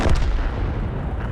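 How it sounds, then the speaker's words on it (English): A heavy artillery shell from an FV tank destroyer slams into a Bat-Chat tank in a World of Tanks battle, a single close, loud booming impact that rumbles and decays over a second. "that was an FV that hit the bat chap"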